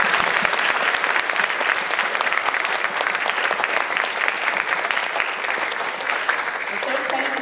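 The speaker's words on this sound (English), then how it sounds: "Let's give another round of applause for our awesome symphony orchestra." An audience at a school band and orchestra information meeting gives the symphony orchestra a round of applause, loud and sustained, with many hands clapping densely and evenly from start to finish.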